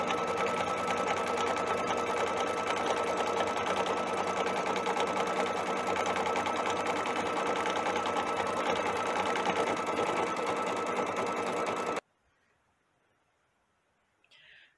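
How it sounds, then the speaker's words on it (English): Brother Stellaire embroidery machine stitching out a square, a loud, steady rapid mechanical whir running continuously up close for about twelve seconds before stopping abruptly into near silence. "the first thing it's going to do is it's going to sew out that first square."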